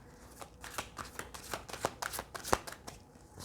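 Tarot cards shuffled by hand, a steady run of crisp riffling snaps close up, about a dozen bursts at an even rhythm with no talk.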